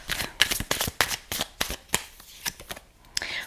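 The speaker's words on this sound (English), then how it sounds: "I'm going to pull clarification cards" Tarot cards are shuffled by hand in a quick series of crisp riffles and soft slaps, close up and uneven in rhythm, with no one speaking.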